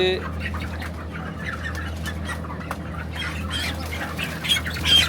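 Broiler chickens squawking during weighing on a farm, several sharp bursts scattered over a low steady hum, with a louder flurry near the end and voices faintly in the background.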